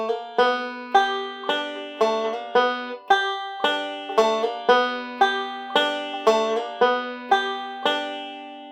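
Bright plucked banjo notes with a slide in a quick, even alternating thumb roll, a steady run of picked strings ringing close with no voices.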